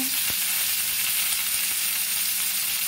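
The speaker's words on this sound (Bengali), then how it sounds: "এটাকে একটু ভেজে নেব।" Star fruit fries with turmeric in a pan, giving a loud, steady sizzle throughout, punctuated by a few faint knocks of stirring; no one speaks.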